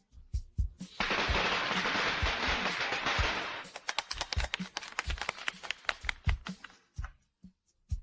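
A long rapid string of firecrackers at a shop opening crackles densely for a few seconds, then trails off into scattered sharp pops and bangs.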